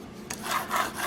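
Knife blade drawn across a diamond sharpening plate, a few quick rasping strokes on one side then the other, close and fairly loud with no talk.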